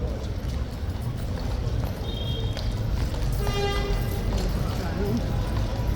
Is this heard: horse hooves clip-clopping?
yes